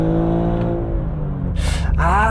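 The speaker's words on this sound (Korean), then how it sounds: "다시 주행 모드를, 스포츠로 돌리니까 살짝 배기가 열렸네요." A Maserati GranTurismo in Sport driving mode, exhaust valves open, gives a close, harmonically rich engine hum. The note swells and rises in pitch toward the end as the car accelerates.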